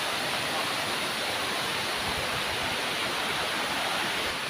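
Engkanto Falls, a waterfall in the Bicol region, roars as a steady, dense rush of falling water. It sounds close and loud, with no break and no voices.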